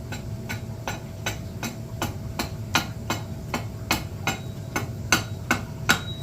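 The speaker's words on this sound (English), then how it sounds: "See how the hatchet's biting really easy?" Freshly honed hatchet biting into wood while shaping a handle, struck in a steady rhythm of sharp, evenly spaced chops, close and fairly light.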